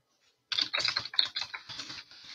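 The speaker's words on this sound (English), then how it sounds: "And you guys can hear it, because the keyboard." Fast typing on a computer keyboard during a typing test: a brisk, close run of light clicky keystrokes with a short pause before it starts, no voices.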